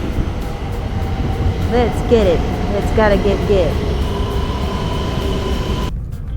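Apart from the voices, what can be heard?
Japanese bullet train running to Niigata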